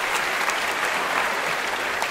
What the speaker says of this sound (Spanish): ¡Que fuerte el aplauso para Nayeli!